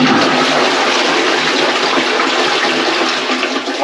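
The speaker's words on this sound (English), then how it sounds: "Should we flush it again?" A new rimless toilet flushes with a loud, steady rush of water close by, holding strong for several seconds with no talking.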